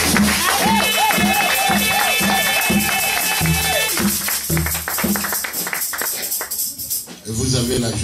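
A church congregation claps in steady rhythmic beats while music and singing carry on loudly over it, then the clapping thins into scattered applause near the end.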